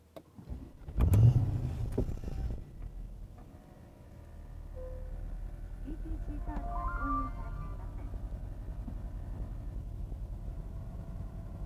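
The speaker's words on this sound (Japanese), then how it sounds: "ではエンジンを始動します。" A 2014 Mercedes-Benz S550 4MATIC Coupe Edition 1 engine cranks with a sharp starter burst, catches with a brief rev, then settles into a steady, smooth low idle heard close up.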